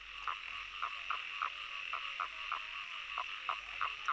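Toads calling at a breeding pond in spring, a steady run of short, evenly spaced croaks repeating about every third of a second over a constant background hum, fairly distant and moderate in level.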